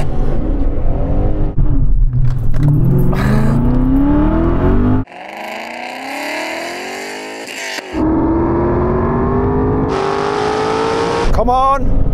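A BMW E39 M5 and an Alpina B10 accelerate hard in a drag race, engine notes climbing through rising pitches as gears change and the cars draw away, with excited voices talking over the roar.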